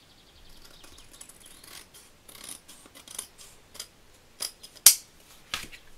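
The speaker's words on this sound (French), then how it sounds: "Je vais venir le couper au ciseau." Scissors snipping through decorative patterned craft paper, a series of quick crisp cuts close by with a few sharper snaps near the end, and no voices.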